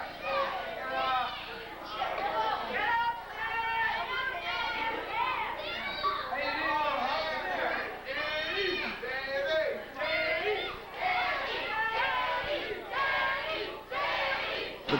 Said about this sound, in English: The crowd is chanting for Danny Rose.